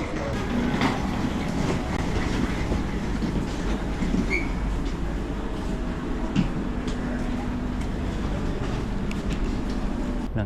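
Rumbling interior of a moving electric train near an airport, steady rolling drone with faint clacks and squeaks, occasional distant voices underneath.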